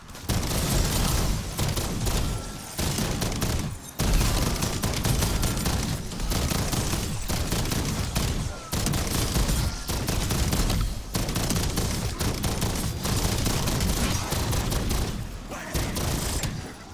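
An LMG fires in long, rapid full-auto bursts in Black Ops 7 Zombies, loud and close, the fire stopping briefly between bursts over the whole stretch.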